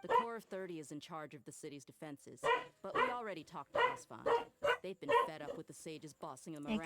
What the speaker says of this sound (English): Excuse the dog outside